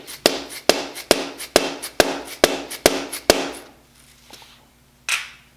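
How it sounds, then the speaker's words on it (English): A dead blow hammer taps a freeze plug into an engine block on a Four Winns boat project, eight sharp evenly spaced strikes close up, then a pause and one softer knock. "Take my dead blow hammer and"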